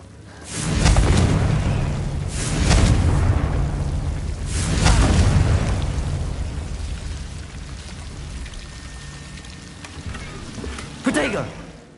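Several heavy booming blasts from the Confringo fire spell in Hogwarts Legacy, arriving at irregular intervals as rumbling explosions with a sharper crack near the end.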